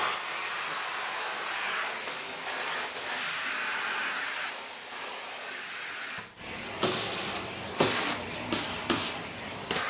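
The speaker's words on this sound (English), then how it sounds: "Switch on the vacuum." A vacuum coupled by magnets to a modern woodworking bench runs with a steady, fairly loud broadband rush, then shifts to a harsher sound with sharp surges in the last few seconds. No one speaks.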